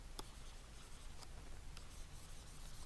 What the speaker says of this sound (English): Now I'll erase the rest of it.